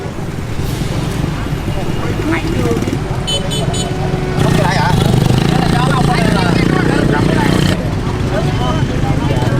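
Busy street traffic of cars and motorbikes streams past close by, with engine drone, passing motorbikes and a brief horn toot under talking voices.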